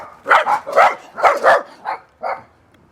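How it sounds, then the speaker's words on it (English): A dog barks six or seven times in quick succession during a walk through a working-class Los Angeles neighbourhood, the barks moderately loud and spaced over about two seconds, with no talk over them. "oh doggy"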